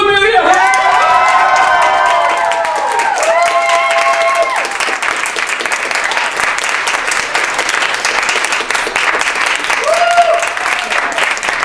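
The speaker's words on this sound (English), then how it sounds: "Everyone, please give a huge round of applause to Amelia!" A live audience bursts into applause, cheers and whoops at a season finale winner announcement, loud and sustained, with excited shouting and high voices over the clapping early and near the end.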